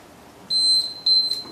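Two high electronic beeps from a workout interval timer, a longer tone then a shorter one, sounding clearly over a quiet room.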